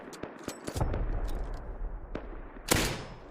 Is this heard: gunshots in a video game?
yes